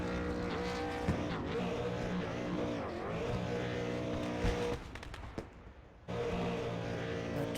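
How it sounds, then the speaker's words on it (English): A race car in the iRacing video game doing a celebration burnout on the front straightaway: steady droning engine roar with tire noise, dipping briefly near the end before roaring back. "He's burning it down on the front straightaway there"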